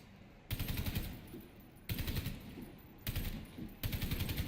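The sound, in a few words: automatic gun firing at a wall, from a video game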